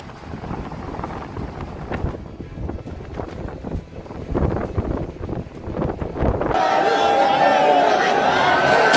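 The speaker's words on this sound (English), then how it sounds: "When the wind is so strong that even the entire beach starts shifting." Strong wind gusting across a beach, a loud roaring buffet that hits the microphone hard, with a mix of background sound turning into a steady, bright blowing hiss near the end.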